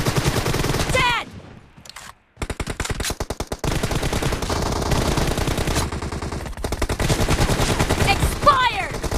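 An M416 rifle in a video game fires in loud, rapid automatic bursts, several strings of gunfire broken by short pauses, with brief game voice cues mixed in.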